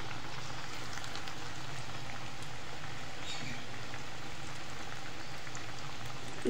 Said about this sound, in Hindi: ना ही बहुत तेज़ आंच पे फ्राई करेंगे और ना ही बहुत स्लो पे।